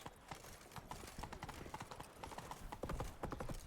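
Horse hooves gallop in Witcher 3, a quick run of close, rhythmic clip-clop beats going on steadily with a brief whinny, all quiet in the mix.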